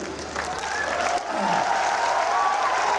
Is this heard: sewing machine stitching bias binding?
no